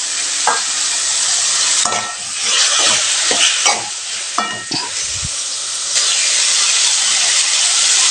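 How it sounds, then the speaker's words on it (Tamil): Boiled broad beans and tomato sautéing in a hot pan: loud continuous sizzle and hiss broken by several sharp spatula scrapes and clacks against the pan. "இது ஒரு 5 நிமிஷம் வதக்கி விட்டால் பொரியல் ரெடிங்க."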